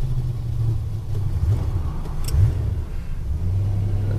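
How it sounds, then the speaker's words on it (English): A Dodge Diplomat's engine idles after a cold start with the choke pulled, a low, steady rumble with a few faint surges, fairly quiet and heard without talk. "This is cold start."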